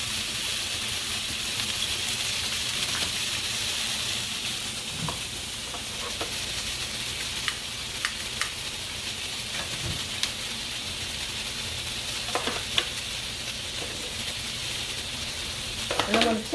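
Steady, even sizzle of sausage browning in a hot pan, a continuous hiss with occasional faint clicks and scrapes from turning it, close and fairly quiet.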